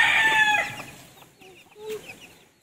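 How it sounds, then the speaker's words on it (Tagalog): Chickens, including a rooster, cluck and call at close range on a Philippine farm where cattle and carabao are kept, loudest at the start and then trailing off into softer scattered clucks. "Ano yan, chicken?"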